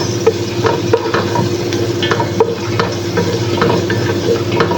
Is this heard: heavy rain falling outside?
no